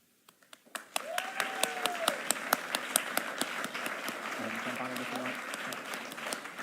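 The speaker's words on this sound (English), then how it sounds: "one more time, a rapturous round of applause for the winner of this award, Professor Scott Fisher." An audience applauds an award winner at an XR industry awards ceremony. A few separate claps build after a second into steady, moderately loud clapping that continues to the end, with brief voices and a tonal sound heard faintly beneath.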